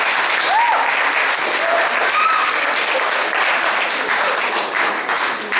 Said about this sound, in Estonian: Aplaus Pündile!